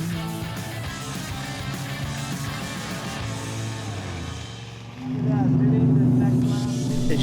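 Race car engine during a 24 Hours of Lemons endurance race rumbles and shifts, then swells louder midway with a droning tone, while a voice talks over it.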